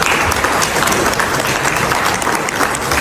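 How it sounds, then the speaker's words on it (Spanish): G7 leaders applaud Donald Trump after he signs a memorandum, a dense, steady burst of many hands clapping at once, loud and continuous throughout with no pauses. "Los otros presidentes del G7, los mandatarios del G7, lo aplaudieron así."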